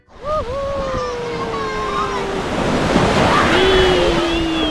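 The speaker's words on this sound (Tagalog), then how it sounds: "Sobrang lakas ng alon talaga." Strong ocean waves crash steadily onto a beach in a loud, continuous roar with wind, while faint voices or tonal calls drift over the surf.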